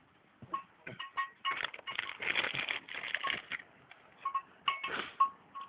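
Sheep bleat several times at close range, short nasal calls coming in bursts with some rustling and light clinking between them.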